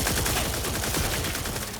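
Sustained rapid turret gunfire in The Outer Worlds 2, a dense unbroken stream of loud mechanical shots filling the whole moment with no pauses.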